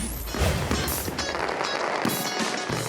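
Fireworks going off in São Paulo during holiday celebrations, with a dense, continuous run of crackling bursts and pops at steady loudness and no voices.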